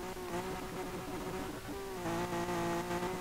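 A BMW accelerating through the gears with wheelspin in the Street Legal Racing Redline game, a steady buzzing engine drone that climbs in pitch, drops briefly at a shift and climbs again, moderately loud with no talking.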